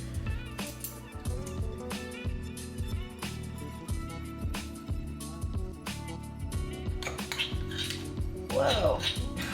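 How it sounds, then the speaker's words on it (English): A whisk strikes a bowl in quick, rhythmic metallic clinks while honey, butter and milk are beaten together, close and moderately quiet throughout. "Whisk the honey, butter, and milk together until combined."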